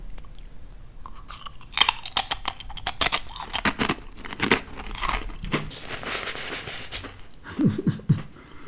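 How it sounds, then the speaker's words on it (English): Clover Valley original potato crisps chewed close up, loud crisp crunches in irregular bursts, with no one speaking. "What about an ASMR chewing sound?"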